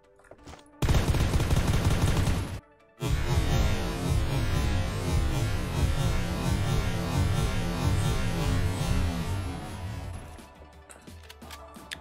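X2 rifle in Knives Out firing a long sustained automatic burst, loud and close, with a brief pause after the opening volley before the rapid fire resumes and trails off.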